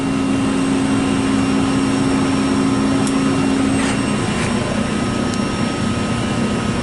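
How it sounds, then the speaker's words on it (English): An air stripper blower in a groundwater treatment system runs loud and steady, a continuous droning roar with a constant low hum and no pauses, heard close up. "There's our air stripper blower amps."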